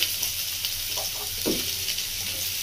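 Cut pumpkin drops into a hot, sizzling pan for a Bengali mixed vegetable dish with drumsticks. A soft thud and a burst of crackle rise over a steady close frying hiss.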